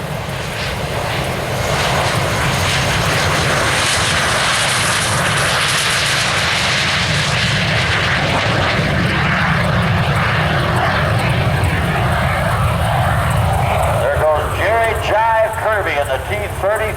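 An F-18 Hornet jet at an air show produces a continuous loud roaring engine rumble, steady and dominant throughout, with a rising whine near the end.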